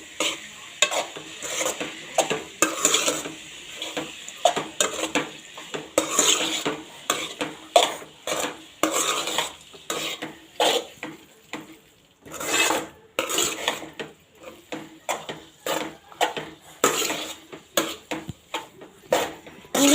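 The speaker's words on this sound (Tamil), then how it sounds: "இப்போ பாஸ்தாவை போட்டு நல்லா மிக்ஸ் பண்ணிக்கணும்." Pasta stirred in a pan with a utensil, sounding as repeated close scraping and clinking strokes of varying loudness with a light sizzle beneath, running continuously without talk.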